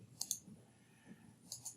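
A computer mouse gives quiet left-clicks while emitters are selected in the Unreal Niagara editor. Two pairs of crisp, close clicks are heard with a pause between them against a near-silent background.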